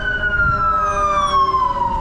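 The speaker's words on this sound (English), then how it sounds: "Just one ambulance coming in hot." An ambulance siren sweeps past on a sunny city street in Compton, Los Angeles, a loud sustained wail that slides steadily downward in pitch as it passes close by, heard alone over faint road noise.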